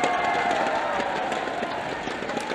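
An esports crowd at the Vainglory World Championship cheers and shouts in a dense, sustained roar filling the large venue, with no clear break.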